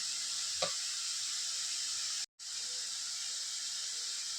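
Onion palya fries and is stirred in oil, a soft, steady hiss with one small scrape early on and a brief dropout partway through.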